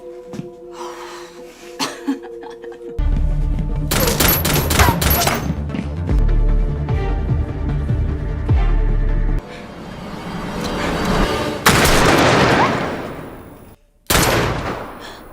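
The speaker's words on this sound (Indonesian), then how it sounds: "dalam aksi saling tembak itu, si Patua harus meregang nyawa di tangan Jonah" Shotgun blasts and gunfire ring out in a film shootout, with loud bursts of shots and heavy crashes across the scene, mixed with dramatic movie sound.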